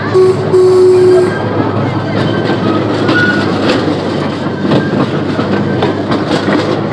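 A train rumbles and clatters past a railroad crossing at close range, wheels clicking steadily, with a loud continuous roar throughout.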